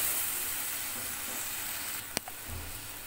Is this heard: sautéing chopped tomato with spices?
yes